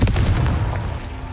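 A single deep, booming blast from the Confringo explosive spell in Hogwarts Legacy, loud and close, with a rumbling tail that fades over about a second.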